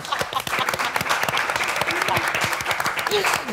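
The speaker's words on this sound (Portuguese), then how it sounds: "Uma salva de palmas!" A small audience claps for a pair of guests on a casual talk show, sharp individual claps in a loose, uneven rhythm, with people talking and laughing over them.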